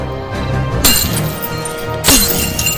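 Heavy iron chains snapping apart as a sound effect, two loud breaking crashes with metallic clatter and shatter, the first near the start and the second about a second later, over a dense background.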